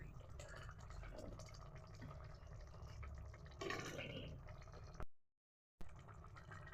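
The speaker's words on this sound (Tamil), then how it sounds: "தண்ணி ஊற்றிப்போம் போதும் இந்த தண்ணி கறிக்கு" Water is poured into a pan of meat curry during home cooking, a soft continuous trickle and splash heard close by with faint kitchen background.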